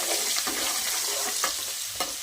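Chopped onions stirred in a hot pan with bay leaf while cooking a chicken and potato curry, a steady sizzle with a few sharp utensil scrapes and taps against the pan.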